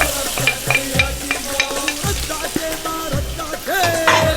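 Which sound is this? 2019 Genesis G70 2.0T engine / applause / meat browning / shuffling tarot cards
meat browning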